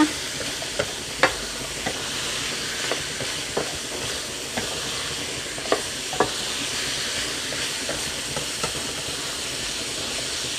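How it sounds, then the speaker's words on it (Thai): Minced pork and vegetables (broccoli and carrot) are stir-fried in a pan under a continuous hissing sizzle, with spatula taps and scrapes landing irregularly every second or so. "ผัดลงไปค่ะ ผ ัดผักให้สลดนิดนึงนะคะ"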